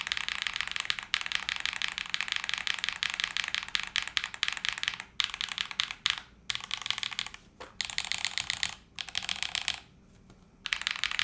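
Alpha keys typed on a Line Friends TKL mechanical keyboard build, a dense, continuous clatter of close keystrokes with a few short pauses, no talking.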